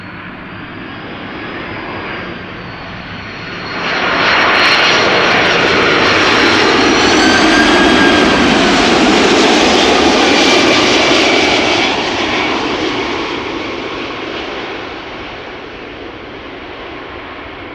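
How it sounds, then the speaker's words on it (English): A Delta Airlines jet arriving from Detroit lands at Amsterdam Schiphol Airport, its engine roar swelling loud and broad as it passes close, holding for several seconds, then fading to a distant rumble. "This is Delta Airlines flight 136, arriving from Detroit, Michigan."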